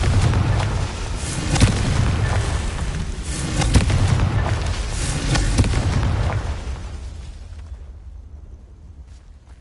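Spell blasts in the Hogwarts Legacy video game: several loud, rolling explosive booms run back to back for several seconds, then trail off into quieter rumbling.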